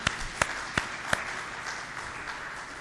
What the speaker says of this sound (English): So, lot of applause for them.